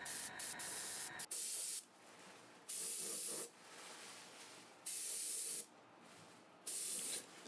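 Aerosol white paint is sprayed onto a mask in several hissing bursts of about a second each, separated by short pauses, close and clear.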